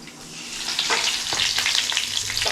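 Cumin, mustard seeds and curry leaves sizzle steadily in hot oil for a village breakfast, a close, continuous crackle with sharper pops and spits scattered throughout, no voices.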